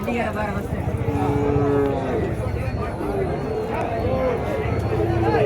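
Calves and cattle at the Matrapalli cattle market, with repeated loud moos and lowing calls rising over a busy crowd murmur, while someone talks nearby.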